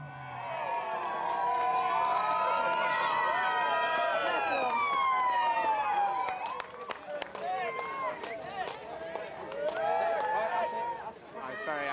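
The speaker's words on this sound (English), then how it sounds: "I was very excited by the police sirens there." Police car sirens wail and sweep loudly at a city event, the rising and falling tone sustained for several seconds amid crowd noise and cheering, then fading into scattered claps and voices.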